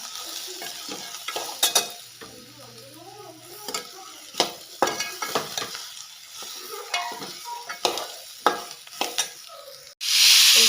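Chana dal being dry-roasted in a pan for a spicy Maharashtrian patwadi rassa, giving a steady light sizzle with repeated scraping stir strokes and utensil clicks, up close, ending in a brief louder burst.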